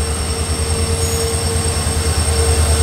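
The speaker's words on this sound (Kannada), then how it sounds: "ನೋಡಿ ಬಂತು ನಮ್ಮ ಕಾರವಾರ ಯಶವಂತಪುರ ಎಕ್ಸ್ಪ್ರೆಸ್" Karwar–Yeshwantpur Express day train arriving at a station, a steady loud rumble of rolling wagons with a constant high whine and faint wheel squeal, continuous for the whole stretch with no voices.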